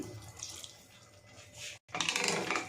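Water pours into a pan of fresh green peas, a soft close splashing trickle that stops briefly and then resumes more strongly.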